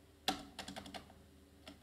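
Typing code on a computer keyboard, a quick burst of close, crisp key clicks after one sharper strike, then a pause and a couple of final taps.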